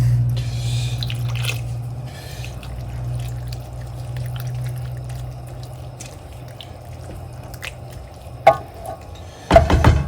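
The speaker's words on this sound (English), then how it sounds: "I'm adding half a tomato tin of water." Water is poured from a tomato tin into a pan of tomato sauce, a soft trickling and dripping under a low background hum, ending in a couple of sharper splashes and clinks.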